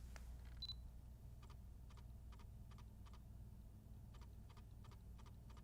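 A Canon EOS R5 camera in electronic shutter mode firing a burst, faint evenly spaced soft ticks repeating in quick succession after an initial click, quiet against low background hum.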